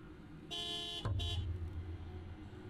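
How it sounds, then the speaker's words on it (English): A car horn honks outside in a horror video game: two moderately loud blasts, the first long and the second shorter, with a low rumbling hum setting in beneath them and no talking. "Are you honking hard?"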